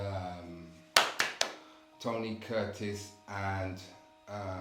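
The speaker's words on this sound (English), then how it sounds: "that's G, by the way, clapping his hands" A man claps his hands three quick times, sharp and close, set amid ongoing conversational speech from other voices before and after.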